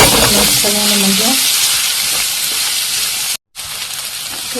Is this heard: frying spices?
yes